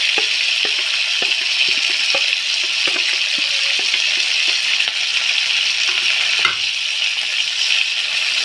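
A ginger, garlic and dried chilli paste frying for chicken curry gives a loud, steady hiss, with faint scattered stirring taps beneath it and no voices.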